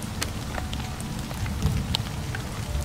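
Cold rain falls steadily outdoors, a dense even patter with scattered brighter drops landing close by and nobody speaking.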